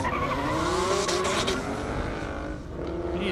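Nissan 370Z Nismo race car sliding sideways at an airstrip drag event, a loud engine roar with squealing tyres, steady and close, easing slightly near the end.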